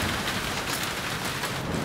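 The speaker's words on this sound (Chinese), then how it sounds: "这几天可一直下雨。" Steady rain falls as a dense, even hiss that holds the whole short moment, with no voices and no distinct drops standing out.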